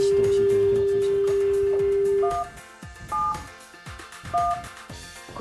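A training telephone for a disaster message service plays a steady dial tone, then three separate keypad beeps as 171 is dialed, with soft handling noise and a faint voice nearby.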